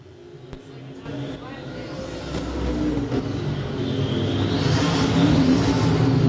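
Vintage pure stock race cars running on a dirt track, engines roaring and swelling louder as cars approach and rev, with a commentator talking over the noise throughout.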